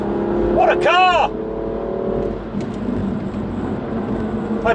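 A BMW M2 Competition driven on a race track, its engine note rising and falling through a revving pass, strong at first and then settling into a steadier hum, with someone speaking excitedly over it early on.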